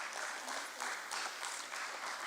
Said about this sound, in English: Keep those applause going.